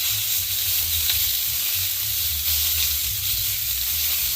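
Steak hitting a smoking-hot pan, with a steady, loud sizzle and hiss that holds evenly throughout, close up and with no talking.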